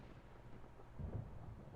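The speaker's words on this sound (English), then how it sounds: "Paimon hears thunder!" A low, distant rumble of thunder in Genshin Impact rolls in under steady rain, swelling slightly partway through.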